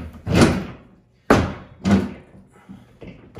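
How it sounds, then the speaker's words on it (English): A John Deere poly garden cart lid is slammed down in three loud, close plastic thumps, the last one weaker, followed by a faint rattle. "I slammed it down and it didn't want to latch"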